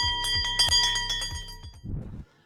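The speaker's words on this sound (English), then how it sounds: "let's ring that bell." A bell rings out loud and close to open a cooking class, several bright metallic strikes in quick succession with long shimmering overtones, fading into a short low rumble before stopping.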